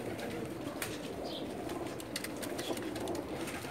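Jonsray Teddy pigeons, a single fancy breed kept in a loft in Jeddah, coo softly and steadily amid faint chirps and background rustle, with no talking.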